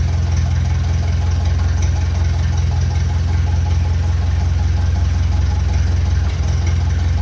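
A 1957 Ferguson FE35 tractor running on TVO idles at low revs, around 650 rpm, a steady deep rumbling chug with a faint knocking rhythm, close and continuous throughout.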